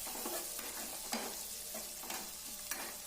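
Spices frying in oil in a pan until deep maroon red, a steady soft sizzle broken by a few sharp scraping stirs, fairly quiet and close with no talk.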